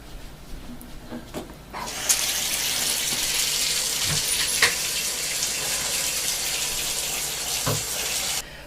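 Water runs from a tap in a kitchen, starting after a few faint clinks and then pouring in a steady, loud hiss for several seconds, with a few soft knocks under the flow.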